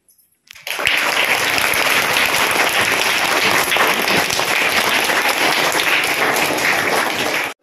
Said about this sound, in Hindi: तालियों की गड़गड़ाहट आप लोग सुने